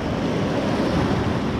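Ocean waves washing up a beach wash zone, a continuous broad rushing surge with wind noise, close and loud throughout, no voices.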